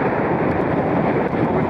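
Strong, constant wind buffeting the microphone on the top of Irton Pike, a fell hilltop, a loud low roar with no pauses and no voices.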